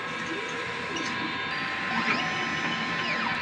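A DTF printer runs a nozzle check after a head clean and wiper pass, giving a steady close mechanical whir with faint sweeping motor tones and a rising carriage sweep near the end.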